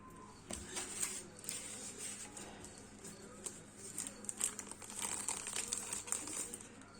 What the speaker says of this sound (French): Donc on va passer à la pose du washi tape.